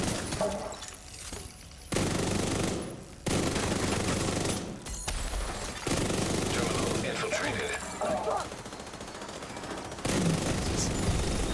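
Video game gunfire aimed at an enemy, long sustained machine-gun bursts that come loud and close, separated by short gaps, with a background hum and occasional impact noises.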